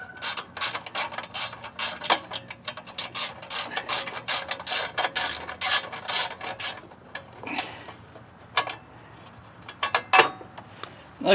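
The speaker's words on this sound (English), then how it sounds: "we'll use the ratchet" Hand ratchet clicking rapidly and steadily up close as a screw is backed out of a Troy-Bilt Storm 10030 snow blower, a dense run of pawl ticks that thins out into a few scattered clicks near the end.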